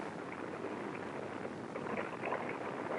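Saturn I rocket booster static test firing with all eight engines running, a dense, steady, roaring rumble that holds evenly throughout with no breaks.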